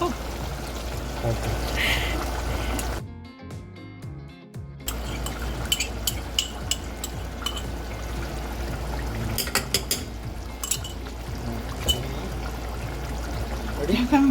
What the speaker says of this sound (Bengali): দইটা কি আমরা পুরো ঢেলে দিব? হ্যাঁ, ঢেলে দাও।